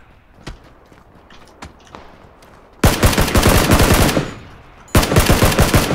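SCAR-L rifle fire in PUBG: quiet distant single shots, then two loud close bursts of rapid automatic gunfire separated by a short pause.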